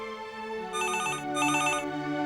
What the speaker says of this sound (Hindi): अच्छा जाओ फोन उठाओ।